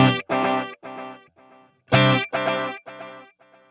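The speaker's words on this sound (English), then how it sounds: "the third mode adds a dotted eighth with the quarter note." Electric guitar through a Wampler Ethereal reverb/delay pedal in dotted-eighth-plus-quarter-note mode: two distinct strummed chords, each followed by a train of fading repeats in a galloping, uneven rhythm, close and loud with no talking.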